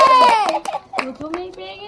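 Hand claps at a Pohela Boishakh bumper-offer event: several sharp, close claps scattered through the moment, mixed with excited children's voices and chatter.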